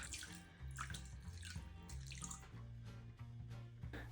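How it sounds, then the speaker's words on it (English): Cold water pours steadily into a bowl holding kombu, splashing and gurgling close by for a few seconds with no talking. "Then add 275 milliliters of cold water."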